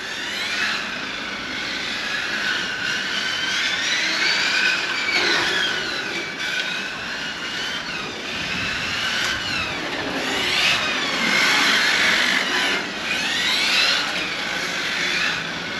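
A Hobao Hyper VT RC car whines across an asphalt parking lot, its high engine note rising and falling repeatedly as it accelerates and drifts, loud and continuous throughout.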